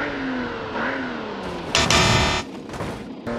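A Nissan Skyline in a brake test: the engine note sinks in pitch, then a loud, broad burst of noise erupts for under a second before fading back to a lower drone.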